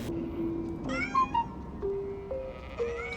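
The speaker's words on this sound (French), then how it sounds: "It looks like this kitten is all by herself." A kitten in the game Amanda the Adventure gives a few thin, rising meows, close and clear over a soft background tone with a brief musical chime.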